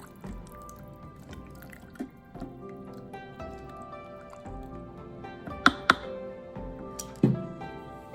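Bhaji vegetables are stirred with water in an Instant Pot, giving soft wet squishes and drips with a few sharper clinks of a spoon against the metal pot.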